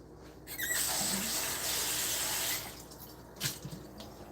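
Tap water runs steadily into a container for about two seconds while a drink is refilled during a relaxed home livestream. A short splash and clatter follow.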